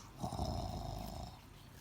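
Sawtooth, a defeated dinosaur in a video game, lets out a low, breathy, growling whimper that rumbles steadily for under two seconds, faint and somewhat muffled.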